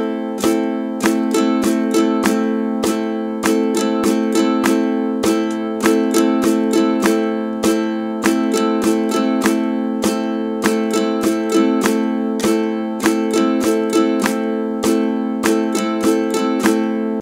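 A single ukulele strums chords in a steady repeating beginner pattern, bright crisp down and up strokes in an even rhythm, close and clear with no voices.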